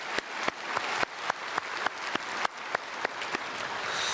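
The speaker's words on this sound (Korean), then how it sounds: "우리 찬양대 크게 박수로 축복하겠습니다" A congregation claps for a church choir in a slow, even rhythm, each sharp collective clap landing about every quarter second over a faint room background, moderately loud and steady throughout.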